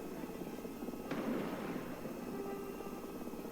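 Missiles launch from a light Swedish helicopter in War Thunder as a sudden whooshing burst cuts through the steady rotor drone, then trails off while the engine hum continues underneath.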